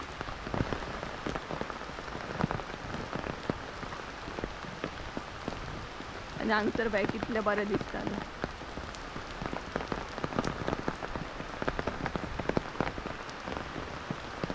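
Steady rain pattering down in a forest, a dense, continuous wash with scattered heavier drops, while a person briefly speaks over it partway through.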